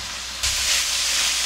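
Sliced radish stir-fried in a pan until its water cooks off, giving a steady hiss and sizzle that jumps louder after a brief quieter start and then holds evenly, with no talking.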